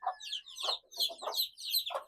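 Newly hatched chicks and chickens clucking nearby, a run of quick repeated peeping calls and clucks in close rhythm, heard on their own.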